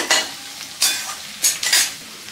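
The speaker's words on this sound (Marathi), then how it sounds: "हा कांदा आपल्याला आता 1 मिनिट थोडासा परतवून घ्यायचा आहे" Chopped onion sautéing in oil in a pan for vegetable pulao, with a soft continuous sizzle broken by four or five sharp scraping stirs of a spoon against the metal.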